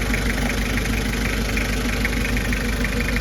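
1995 Toyota Hiace high-roof van with a 2L 2500cc engine idling quietly, a steady, even low rumble that stays constant throughout with no voices.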